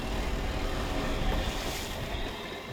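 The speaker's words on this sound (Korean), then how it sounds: "오늘도 파도가 만만치 않아 보이는데요." Rough sea waves off Daecheongdo wash against a fishing boat, a steady broadband rush of water and wind noise, close and continuous with no voices.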